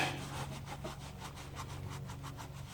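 Cloth rubbing and wiping across the engine's oil filter mating surface on a 1996 Suzuki Alto during an oil change, a steady close scrubbing texture with rhythmic strokes and no talking.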